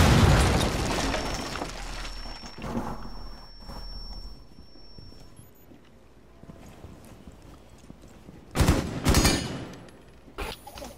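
Cluster charge blasts in the video game Rainbow Six Siege go off as a cluster of sharp, loud explosions toward the end, following a stretch of quieter game noise with a rumbling low background.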